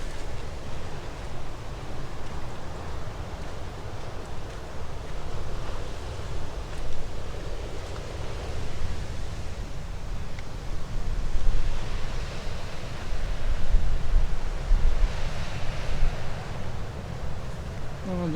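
Ocean surf and gusty wind at Makapu'u beach on Hawaii, a broad continuous rush with swelling wave surges and wind buffeting the microphone, no talk.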